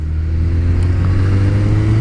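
Motorcycle ridden in winter at about 25 mph around a roundabout, giving a steady low engine drone with continuous road and wind rumble and no talking.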